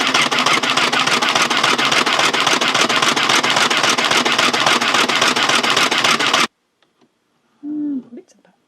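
A 1960s Singer Junior Miss toy sewing machine running on mains power chatters steadily and rapidly for several seconds, close and loud, then stops abruptly before a short bit of speech.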